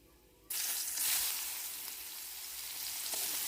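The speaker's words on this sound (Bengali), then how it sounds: "পেঁয়াজটাকে অল্প ভেজে নিতে হবে" Chopped onions hit hot oil already holding black cumin and fenugreek seeds, bursting into a loud, steady sizzle that stays close and continuous after a quiet start.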